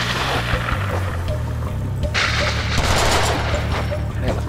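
Dense gunfire in the Deadpool video game, a continuous rattle of rapid shots with booming bursts, loud and close, running the whole time over a low rumble.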